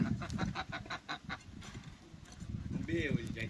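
Several ducks quack and honk close by in short repeated bursts on a farm in Cyprus, mixed with people talking nearby.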